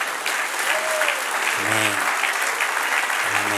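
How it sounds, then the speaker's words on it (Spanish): A congregation at a church service applauds steadily and fairly loudly, with a voice briefly speaking over the clapping. "Dale un aplauso al que reina."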